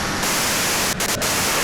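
Steady hiss of white-noise static from the Disco Elysium video game, loud and continuous with two very brief dropouts near the end.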